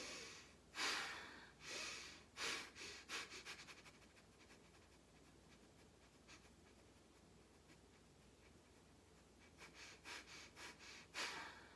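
Bhastrika bellows breathing from a pranayama breath-control practice: bursts of forceful rhythmic breaths through the nose, then a quieter stretch, then another round of rapid pumping breaths, close and fairly soft.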